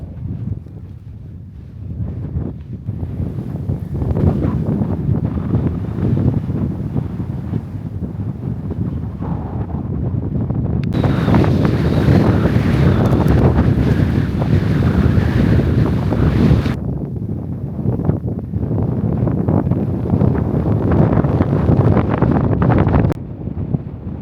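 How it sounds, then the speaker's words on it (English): Steady wind blows across sandboarding dunes in Colorado's San Luis Valley, a continuous broadband roar buffeting the microphone, swelling stronger midway then easing, with no voices. "Wind up there"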